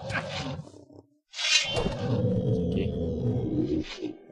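A short growl gives way to a loud, deep monster roar that rumbles on for a few seconds, close and menacing, with no talking.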